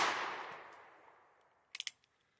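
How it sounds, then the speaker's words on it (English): A .22LR Chiappa 1873-22 lever rifle with antique finish fires Winchester Super X ammo outdoors. A loud report fades in a long tail, followed by a quick cluster of three sharp metallic clicks. "First shots, Winchester Super X"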